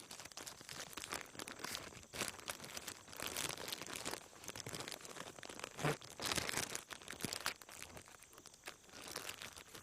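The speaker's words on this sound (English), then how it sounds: "Then we want to put it in a plastic bag and close the bag up." A plastic bag crinkles and rustles softly as it is closed up around stored plant cuttings, with faint, continuous crumpling and a few sharper crackles close by.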